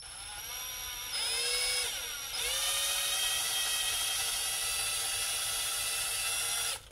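A drill spins a masonry bit against a grinding stone, giving a continuous high whine that briefly shifts pitch as the bit is pressed and repositioned, then holds steady before stopping.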